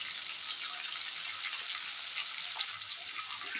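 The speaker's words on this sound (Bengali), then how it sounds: "এবার আমি আলু ভালো করে ভেজে নেব" A steady, hissing sizzle of potatoes frying in hot oil over a high gas flame continues evenly throughout, close and moderately quiet, with no voices.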